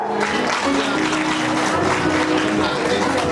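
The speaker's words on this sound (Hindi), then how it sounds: "खूब जम के तालियां बजाओ" Enthusiastic applause from a crowd at an International Women's Day event held by a social organization, sustained and even, with a faint hum of voices beneath the clapping.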